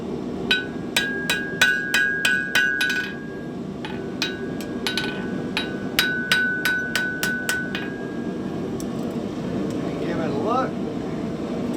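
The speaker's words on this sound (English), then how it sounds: "if I hit the edge of my hammer right behind that bend, it'll actually straighten things out" Sharp ringing hammer strikes on metal in quick rhythmic runs, hammer edge straightening a bend over the anvil horn, with a sustained anvil ring, over a steady background hum; close and loud.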